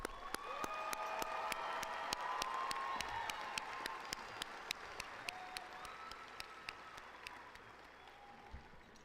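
An audience at a university engineering commencement applauds the graduates, sustained clapping from a large crowd at moderate distance, with regular sharp clicks over it and a faint tone drifting through.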